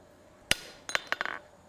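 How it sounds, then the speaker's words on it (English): A steel chisel struck by a hammer while cutting a shallow center vein into a forged metal maple leaf: one sharp ringing blow, then a quick run of lighter clinking taps close up, with no talk. "start chiseling in our center line"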